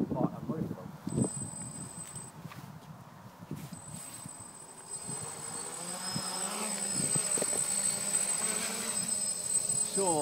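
Hexcopter drone on its maiden flight, motors whining steadily with a high tonal buzz and rising slightly as it climbs, heard from a moderate distance over wind noise with occasional gusts buffeting the microphone.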